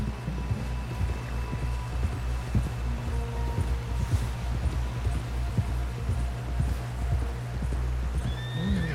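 A horse galloping in Red Dead Redemption 2, with steady, close clip-clop hoofbeats over a low rumbling bed, a whinny near the end and no voices.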